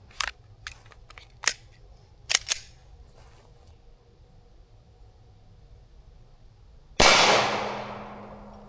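Federal 147 grain solid core rounds are fired at a steel target, with several sharp, light cracks and clangs early on and then one much louder bang with a long ringing decay.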